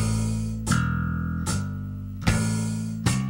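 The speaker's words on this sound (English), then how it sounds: "Now, say I were playing a bass line." A bass guitar plays a bass line in 3/4 waltz time, with firm plucked low notes recurring at a steady, evenly spaced pulse and ringing clearly without any talk over them.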